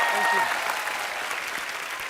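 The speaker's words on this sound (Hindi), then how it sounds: "जोरदार तालियां हो जाएं प्लीज" Studio audience on a comedy talk show breaks into loud, sustained applause, a dense wash of clapping that holds steady for about two seconds, with a brief voice near the start.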